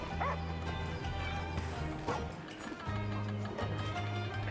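Palamute dogs from Monster Hunter Rise give a few short barks and yips over steady game music and ambient hum, with brief bursts scattered across the scene.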